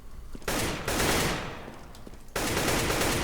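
Counter-Strike: Global Offensive gunfire: dense bursts of rapid shots break out, pause, then resume with rising intensity, loud and close.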